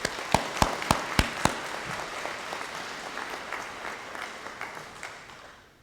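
Applause for award winners at a Hocking College summer graduation, opening with a few sharp close claps before spreading into a lighter crowd patter that gradually fades.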